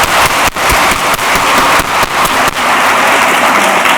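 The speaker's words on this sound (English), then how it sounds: "All right, a big round of applause for these students." Loud, dense applause from an audience at a career and technical graduation recognition ceremony, close and continuous with sharp bursts of clapping.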